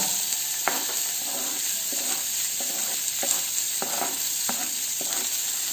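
Chopped onion sizzles steadily in a hot pan for a cutlet mix, a constant frying hiss with repeated scraping stirs of a spoon coming every half second or so, close and fairly loud with no talking.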